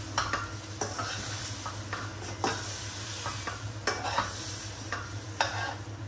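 Chicken and spices with coriander powder fry in a pan for a spinach chicken dish, with a steady sizzle and repeated spatula scrapes and taps at a close, even pace.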